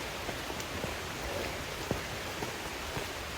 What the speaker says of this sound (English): It's started to rain now